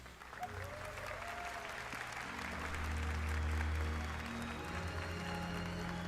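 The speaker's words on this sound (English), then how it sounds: "A huge round of applause here for the third place team of Team Subaru, for Danny Solis, for Killian Drummond." Applause for Team Subaru as the third-place team at a Gran Turismo 7 esports award ceremony. The clapping is a moderate, steady crowd wash over low sustained musical tones and engine-like drones.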